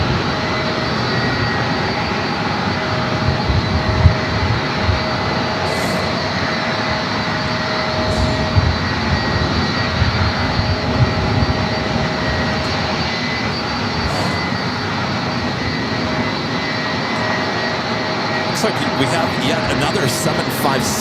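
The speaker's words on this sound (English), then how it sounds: "757-200 also heading out for a takeoff" Delta Boeing 757-200 jet airliner taking off at San Diego airport, a sustained loud engine roar with steady tonal whine, rumbling on for about twenty seconds with faint intermittent sounds over it.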